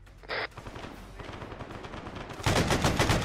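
Blank rounds fire during a military simulation game, with a short burst followed by sustained rapid automatic gunfire that grows louder and denser toward the end, close and harsh. No speech.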